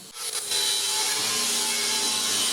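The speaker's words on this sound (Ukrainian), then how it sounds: "Коли піч готова, шліфує її." Grinder working the surface of a welded steel wood-burning stove, a loud continuous harsh rasp that starts up in the first half second and then holds steady and close.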